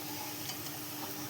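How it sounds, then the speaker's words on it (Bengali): Food fries in a pan as a steady, fairly quiet hiss of sizzling oil with light stirring, brief and without talk. "এদিকে ভাজা করছি, এইভাবেই সবগুলো ভেজে নেব"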